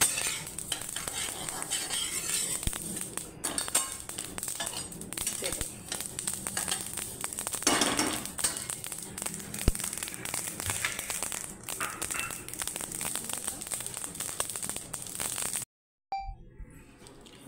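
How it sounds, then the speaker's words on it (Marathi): White sesame seeds dry-roasting in a kadhai while being stirred, with a continuous dry rustle and scrape punctuated by occasional sharper ladle taps against the metal. The sound runs unbroken until it stops just before the end. "हे असे आपण तीळ भाजून घेतले"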